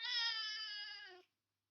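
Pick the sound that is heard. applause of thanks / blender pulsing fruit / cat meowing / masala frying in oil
cat meowing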